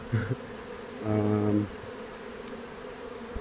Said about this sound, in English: You have a swarm.